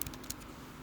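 Keystrokes on a computer keyboard, a few quick soft taps close by with no voices.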